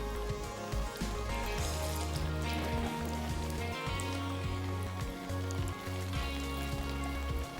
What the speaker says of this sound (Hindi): चिकन जो है वो भी फ्राई कर लेते हैं